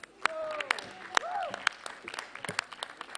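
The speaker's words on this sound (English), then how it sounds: "A round of applause, please." Applause and clapping from an audience honoring junior spelling bee place winners at a national school competition, sharp scattered claps over crowd murmur with some voices, moderately faint and brief.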